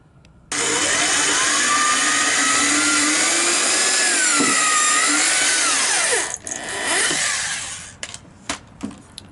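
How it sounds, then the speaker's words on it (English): A power drill whines loudly and steadily for several seconds, pitch shifting as it bores an angled pocket hole through a sleeve jig into wood, then stops with a few short bursts. "then you put this in your drill and you go into the sleeve"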